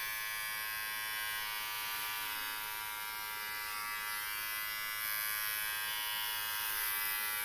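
Steady electric buzzing of hair clippers running close by, with a slight shift in tone as they work through hair, no voices.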